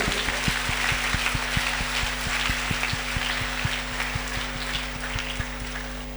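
A congregation at Holy Mass in Mariamabad claps in a sustained, even wash of applause, steady and moderately distant, with a faint electrical hum beneath it.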